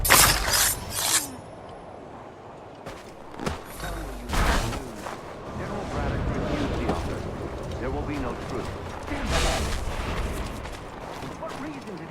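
Cannon fire in the Assassin's Creed III video game: booming blasts and crashing impacts with glassy debris, several bursts spread across a noisy battle bed, with a voice speaking over parts of it.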